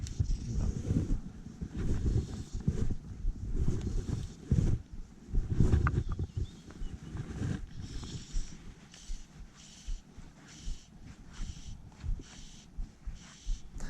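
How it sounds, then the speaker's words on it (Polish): Wind buffets the microphone in rough, low rumbling gusts while wet-fly fishing outdoors, strongest early on and easing toward the end, with no one speaking. "Trochę wiatr przeszkadza."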